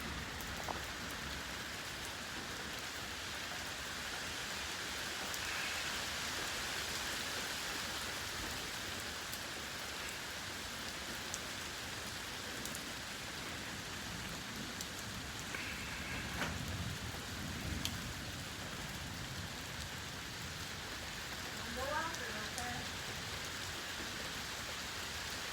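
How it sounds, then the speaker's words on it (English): Heavy rain from a severe night thunderstorm in Fayetteville, Georgia: a dense, steady hiss of rain falling on surfaces that continues without a break throughout, moderately loud, with no talking. "You hear that new swath of rain."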